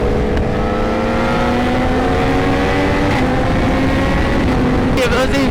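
A 2026 BMW M1000RR-style superbike at a car meet, heard as a loud sustained engine drone that rises sharply near the end while people talk over it.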